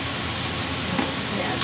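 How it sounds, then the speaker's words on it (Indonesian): Mushrooms cook in a hot pan with a dense, continuous sizzle and hiss, steady and close throughout the short stretch. "Ini jamurnya saya masak."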